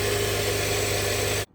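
Honda Accord engine idling steadily while warming up, a close, loud and even low rumble with a regular pulse that runs unbroken before cutting off abruptly near the end.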